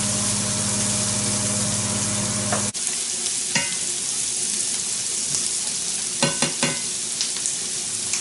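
Butter and oil sizzle in a pan for a shrimp and grits sauce. Loud steady frying hiss at first, then a sudden drop to quieter crackling with a few sharp clinks of a utensil, no speech.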